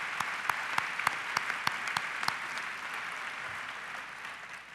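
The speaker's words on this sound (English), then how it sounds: "Give them a round of applause for their hard work." An audience claps for a local host committee at the opening session of an annual meeting, a sparse, fairly distant patter of individual claps that thins out and fades over a few seconds.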